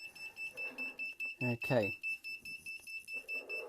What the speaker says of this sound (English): I'm going to reconnect my alarm so that we can see that it's all working